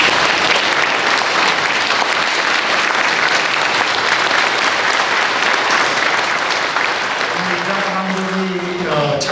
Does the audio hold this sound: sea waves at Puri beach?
no